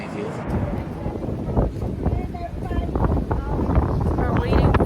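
Strong, gusting wind buffets the microphone beside the river at the Peterborough hydraulic lift lock, a steady roar with rumbling swells and some faint voices underneath.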